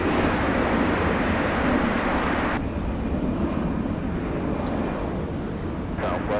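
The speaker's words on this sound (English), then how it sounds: "There you go, quick rotate. CRJ will track the rate of climb." A CRJ regional jet roars loud and close through its takeoff and climb, a steady broadband rush that drops off sharply partway through and then lingers as a fainter, wind-buffeted rumble.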